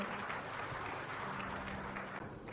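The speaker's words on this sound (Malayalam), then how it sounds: "നിറഞ്ഞ കൈയടി ഉരട്ടെ" An audience applauds at a corporate 'Grand 1000' celebration held at the Taj Vivanta in Kochi. The clapping is steady and fairly distant, forming a soft, continuous patter throughout.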